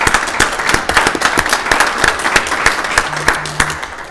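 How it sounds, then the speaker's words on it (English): Applause at a town council meeting, a steady patter of individual hand claps from a modest roomful of people, with distinct separate claps standing out, close and fairly loud. "That's an applause there."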